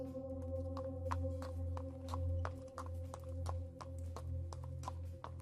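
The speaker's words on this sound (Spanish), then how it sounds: "El sonido de cascos como de un caballo acercándose lentamente por la carretera." Horse hooves clip-clop slowly and evenly on a road, a steady walking rhythm of distinct knocks over a low rumbling hum, fairly faint.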